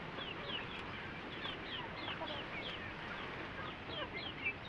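A small Rhode Island chicken clucks softly in a backyard farm, with short scattered calls over a constant background of other fowl and ambient noise.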